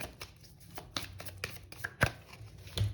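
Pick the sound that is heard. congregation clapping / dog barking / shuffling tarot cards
shuffling tarot cards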